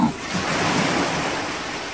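Large waves pound against concrete tetrapods on a pitch-dark, windy night, a continuous heavy roar of surf with no distinct gaps, steady and fairly loud.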